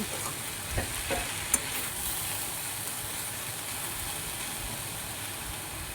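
Water spinach (kolmi shak) frying in a pan over a low gas flame gives a steady, even sizzle that lasts throughout, with a few faint clinks early on.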